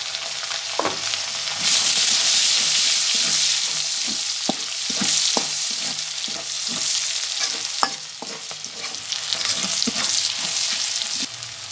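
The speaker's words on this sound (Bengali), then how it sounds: "দিয়ে দিচ্ছি পেঁয়াজ কুচি" Chopped onions frying in a hot pan, a steady sizzle with intermittent scraping and stirring clicks from a utensil, close and continuous.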